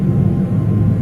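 Steady airplane engine drone heard from inside the cabin of a plane bound for New York over Chicago, a constant low, loud rumble with no break or voices.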